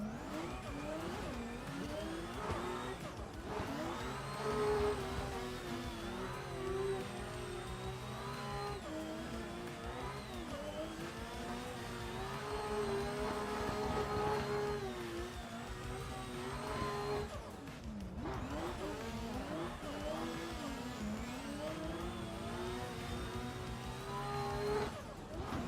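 A Ferrari 599 engine in a racing video game at Okayama, revving loudly through repeated rising and falling gear pulls, with a brief cut in throttle between runs.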